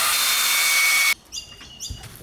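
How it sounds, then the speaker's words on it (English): A power drill whirs loudly and steadily for about a second while driving screws down through tent pegs outdoors, then cuts out, leaving faint high chirps and quiet background. "we're going to use the drill and we're basically going to screw them down"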